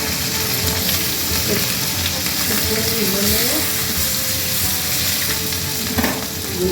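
Chopped ginger and capsicum fry in a pan for a vegetarian chilli paneer, a loud steady sizzle close by with occasional stirring scrapes.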